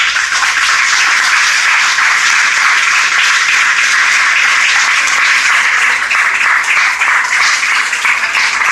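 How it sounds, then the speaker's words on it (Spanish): A church congregation applauds during a sermon, a loud, sustained, even roar of many hands clapping together that fills the room without a break and with no voice on top. "Le damos un aplauso al Señor."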